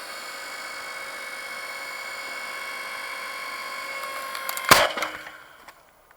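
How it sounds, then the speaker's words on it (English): A log splitter runs with a steady, droning mechanical hum, then a sudden loud crack of splitting wood around the end, after which the hum fades out to quiet. "That's how log splitter works."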